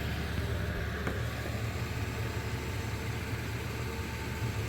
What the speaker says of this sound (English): The truck is running